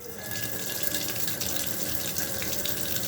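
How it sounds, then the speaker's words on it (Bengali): Tap water runs steadily into a basin over a pressure cooker of strained rice, making a constant close splashing rush with no talking. "আমি এটাকে বেসিনে নিয়ে গিয়ে জল ছেড়ে দিয়ে ঠান্ডা করে নেব"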